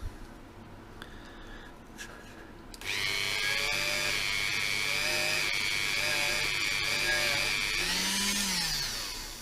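A rotary tool porting the forks of a Ducati 900SS being restored, starting after a few quiet seconds and then whining steadily and loudly at high pitch, its tone wavering slightly and dipping near the end.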